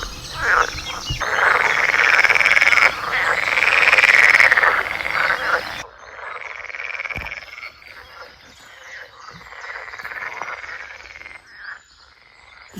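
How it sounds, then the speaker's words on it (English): A dense chorus of many frogs or toads croaking together at a reedy pond, loud and continuous at first, then thinning to a softer, more scattered calling. "There's so many frogs in here."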